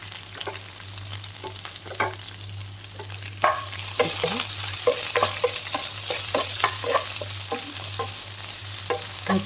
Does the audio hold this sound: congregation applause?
no